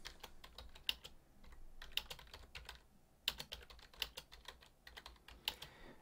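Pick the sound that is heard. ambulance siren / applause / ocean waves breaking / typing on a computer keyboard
typing on a computer keyboard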